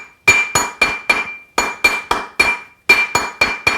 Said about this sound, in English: as I'm tapping, I'm constantly turning the mandrel around and around